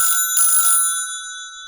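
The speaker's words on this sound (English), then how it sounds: "Soundman, why do we have a phone in here? Especially such a noisy one." A noisy telephone bell rings in two sharp, loud metallic bursts close by, the second followed by a lingering ring that slowly fades.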